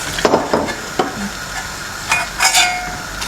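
Small dilis fish fry in hot oil in a pan, a steady crackling sizzle punctuated by scraping stirs and brief bright spatters, close and fairly loud with no talking.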